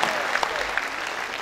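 An audience applauds an orchestra at a concert, a short burst of dense clapping from a crowd, fairly soft and steady with a few sharper claps standing out.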